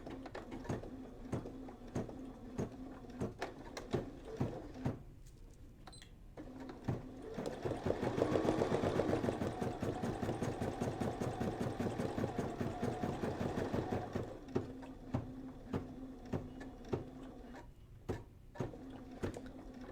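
A computerized embroidery machine stitches in a rapid, even mechanical chatter, starting with sparse ticks, then running loud and continuous for several seconds before slowing back to scattered clicks, close by with no talking.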